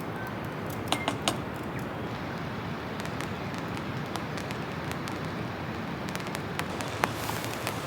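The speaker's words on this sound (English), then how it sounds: "It sounds like that rain's picking up again." Steady dense rain pattering on a taut tent, a continuous hiss with occasional sharper drips and taps close by.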